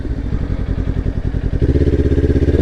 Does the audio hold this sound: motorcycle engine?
yes